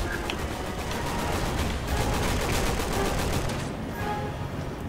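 Dense, sustained gunfire from a firefight in Resident Evil 6, rapid overlapping shots rattling continuously at steady loudness, with no talk over it.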